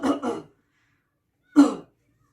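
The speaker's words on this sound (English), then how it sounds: "you must put your hand over your mouth when you cough" Three short, throaty coughs: a quick pair at first, then a single one after a pause, close and fairly loud with silence between.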